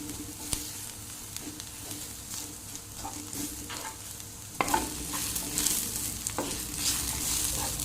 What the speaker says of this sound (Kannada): ಇದನ್ನು ಕೂಡ ಇವಾಗ ನೀರುಳ್ಳಿ ಜೊತೆಗೆ ಸ್ವಲ್ಪ ಫ್ರೈ ಮಾಡಿ